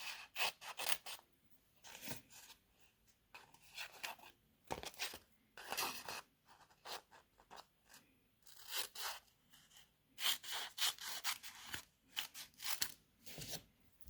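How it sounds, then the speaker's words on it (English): Repeated crisp snipping and slicing of scissors through stiff cardstock with an adhesive sheet, in short irregular bursts with brief pauses, close and fairly quiet. "And then I'm just going to take my scissors"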